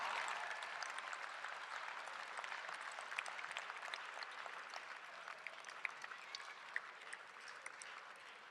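Law graduates at the 2016 Maurice A. Deane School of Law commencement applaud their parents and loved ones, a steady, faint, distant wash of clapping lasting over eight seconds with no voices on top.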